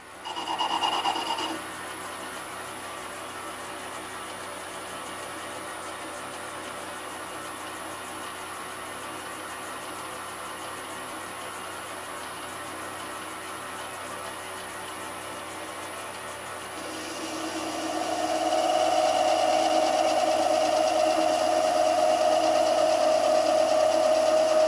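A lathe takes gentle cuts on a metal centre stand pivot for a Honda CB400 Four restoration, a steady close scraping hum that grows louder and gains a thin, high whine toward the end.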